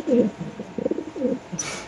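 A racing pigeon of the Afsan Gijal breed, caged at a pigeon sale, coos close by, three or four low, throaty rolling coos in a row over faint background noise.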